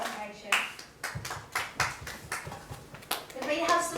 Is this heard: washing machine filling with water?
no